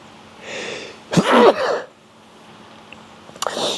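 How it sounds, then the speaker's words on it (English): A single sharp, explosive sneeze bursts out close by, preceded by a soft breathy intake and followed by quiet air. "The sun makes me sneeze."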